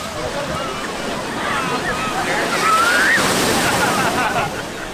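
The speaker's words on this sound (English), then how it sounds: "those waves still look pretty menacing" Ocean surf at a crowded beach in Puerto Escondido, Mexico, a loud continuous wash of breaking waves close by with a faint whistle-like tone rising briefly in the middle.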